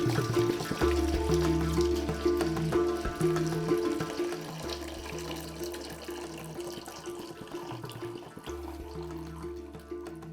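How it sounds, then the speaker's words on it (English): Dirty water pours from an iHG-600 Browns ice machine into a bowl, a steady splashing stream over a constant low machine hum, close and fairly loud, easing slightly toward the end. "This water does not get saved and reused, it gets dumped."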